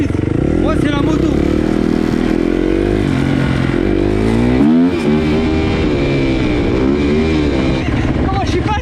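Motorcycle engine revving loudly and continuously at an urban rodeo in the Paris suburbs, rising and falling in pitch close by, with voices talking underneath.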